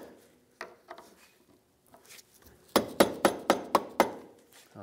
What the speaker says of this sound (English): I'm gonna tap it in the rest of the way